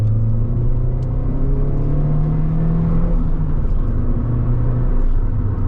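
A 1994–2000 Vauxhall Tigra MK1 coupe accelerates on the road, heard as a loud, steady engine drone and rumble that rises slightly and holds for several seconds with no voices.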